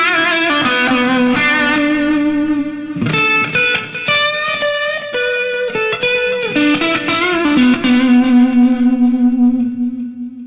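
An electric guitar played through the Rat distortion effect on a Donner Arena 2000 guitar processor, giving loud, sustained overdriven notes and chords with a thick harmonic buzz that shift pitch through a short melodic phrase.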